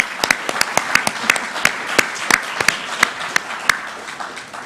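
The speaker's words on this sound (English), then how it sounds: "Give Barry a big round of applause." Audience applause for a nominee at a Ballina Shire Australia Day awards ceremony, a spread of distinct, fairly close hand claps rising and thinning over several seconds, with no talking.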